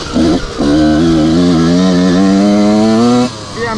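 Honda CR125 two-stroke dirt bike engine ridden without the clutch, a loud close buzzing drone that holds a steady wavering pitch for about three seconds after a short first burst.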